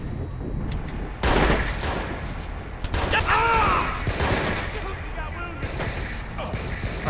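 Bursts of gunfire ring out in the video game Watch Dogs, sharp rapid volleys with clattering mechanical sounds, mixed with a voice talking over the action.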